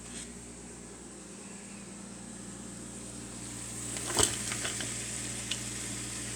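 Quiet, steady sizzling of mushrooms and onions frying in a pan, with a brief louder clatter midway like a utensil stirring.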